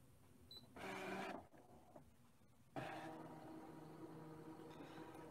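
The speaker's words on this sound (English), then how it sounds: "It's going to quickly scan in the paper, work out where the registration marks are, and place the cut files over the pattern" A Brother ScanNCut DX cutting machine scans a sheet of printed paper, giving two bursts of mechanical whirring from the scanning carriage with a short lull between, fairly close and alone.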